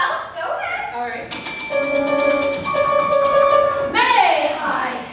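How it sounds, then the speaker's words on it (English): A counter bell in a live stage melodrama by the Mantorville Theatre Company rings out bright and clear, its metallic tone sustaining for a few seconds before fading as voices resume. "There's a bell over here on the counter."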